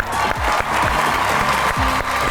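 Studio audience on a Pakistani comedy talk show applauds as the comedian guest, a well-known film, theatre and TV name, walks on; steady broadband clapping fills the room with voices and music tones underneath.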